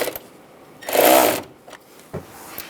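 A short burst of whirring tool noise while tightening a hose clamp during an AC condenser replacement on a 2011-2018 Ram 1500, set between faint clicks and handling sounds.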